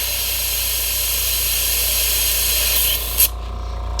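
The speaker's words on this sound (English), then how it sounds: "So I can just spray this through." An airbrush sprays clean water through while colors are being changed, giving a steady close hiss that runs for about three seconds, then cuts off abruptly with a brief click before a quieter hiss continues.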